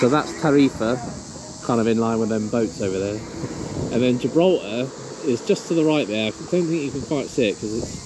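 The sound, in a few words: crickets chirping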